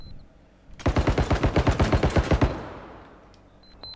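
A burst of about fifteen rapid automatic rifle shots in the shooter game Bodycam, loud and close in a steady rhythm, followed by a fading echo.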